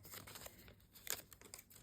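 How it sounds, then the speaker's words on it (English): A plastic bag crinkles and rustles as a handmade Cricut iron-on craft item is slipped inside for shipping, soft close crackling in bursts with one sharper crunch partway through. "So it goes in a plastic bag."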